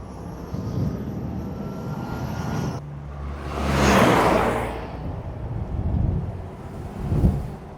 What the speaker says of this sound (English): Woo, there was a log truck coming.